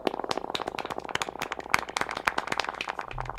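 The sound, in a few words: clapping for the moms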